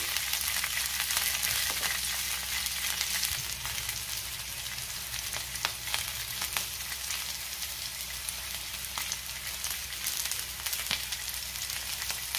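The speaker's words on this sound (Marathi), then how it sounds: "गॅसची फ्लेम मी मीडियम ठेवून ह्या मिरच्या मऊ होईपर्यंत भाजून घेणार आहे।" Green chillies roast in oil in a pan over a medium gas flame, giving a steady close sizzle and crackle for the whole stretch with light stirring noises and no talk.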